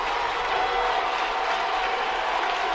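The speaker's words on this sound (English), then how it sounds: "Crowd at full throat." Roaring football crowd at a Class 5A-II Texas high school state championship, South Oak Cliff against Port Neches-Groves, with fans on their feet in a steady, dense wall of cheering that holds loud and unbroken throughout.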